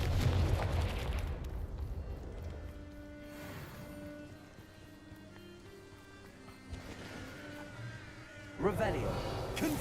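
Confringo blast spell explosions in the video game Hogwarts Legacy, low rumbling booms swelling and fading over game music, with a sharper burst near the end and a voice talking intermittently.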